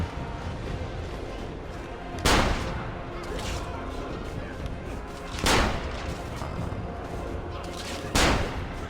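Cannon and gunfire in the video game Assassin's Creed Revelations: three loud booming shots spaced a few seconds apart over a steady background of game noise and battle ambience.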